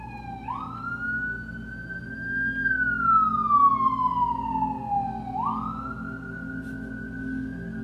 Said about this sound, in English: This siren will not go away.